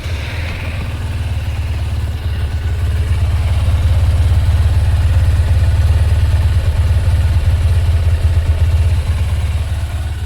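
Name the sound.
Honda motorcycle exhaust idling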